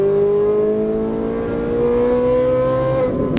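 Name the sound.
Ferrari 458 Italia engine accelerating on track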